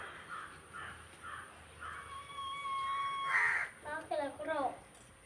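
Crows caw in short harsh bursts while one drags off food meant for a hen, several calls spaced across the stretch, fairly close, with other voices and noisy vocal sounds mixed in near the end.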